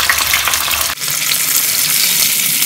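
Tomato paste, ginger and garlic fry in a pan with a steady, loud broadband sizzle and a brief dip near the one-second mark, with no voices.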